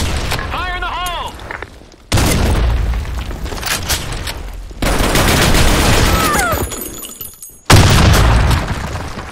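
Loud booming blasts and bursts of gunfire from a video game firefight, with repeated grenade explosions in several sharp, heavy impacts, while voices shout over the combat.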